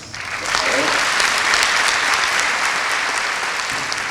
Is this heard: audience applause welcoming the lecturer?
yes